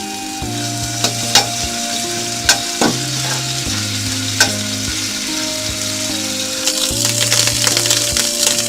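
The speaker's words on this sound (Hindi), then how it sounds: "अब हम अदरक लहसुन का पेस्ट डालेंगे और इसे हल्का फ्राई कर लेंगे।" Ginger garlic paste frying in hot ghee in a kadhai: a steady close sizzle broken by sharp scrapes and taps of a spoon stirring against the pan, with no talking.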